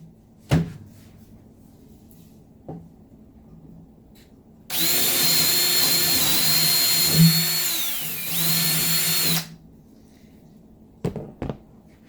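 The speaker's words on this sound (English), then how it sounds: "you're just going to pre-drill a hole" A power drill whirs steadily for about five seconds, dipping in pitch midway, as it pre-drills a hole in a 2-by-4-foot display board meant for fabric covering. A few light knocks and taps come before and after.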